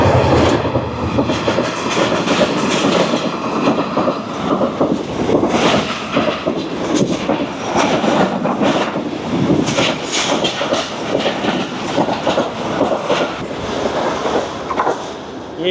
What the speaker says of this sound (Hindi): ये गई 47 अप रहमान बाबा एक्सप्रेस, मंजिल इसकी पेशावर और 98 किलोमीटर्स क्लॉक किया इसने।